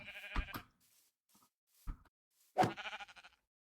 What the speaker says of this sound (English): Bouncing off a invisible sheep.